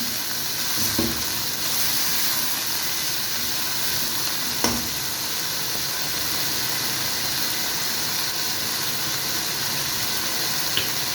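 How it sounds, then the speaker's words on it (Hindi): Chicken frying in a pan with noodle masala, a loud steady sizzle that holds throughout, with a couple of faint stirring clinks. "मैंने साशे मसाले का इस चिकन के अंदर डाल के उसको मैं फ्राई कर रही हूँ।"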